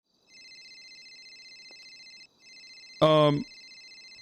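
A phone ringtone chirps in a GTA roleplay video game, a steady electronic trill that plays, pauses briefly and resumes, followed by a short burst of a voice at the end.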